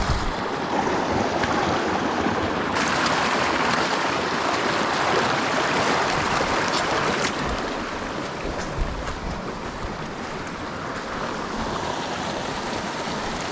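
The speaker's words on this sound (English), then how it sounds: "Been following this creek, crossed it a couple times." A flowing creek on the Pacific Crest Trail rushes and gurgles continuously as a hiker crosses it, a broad, close water roar that shifts slightly partway through, with no talking.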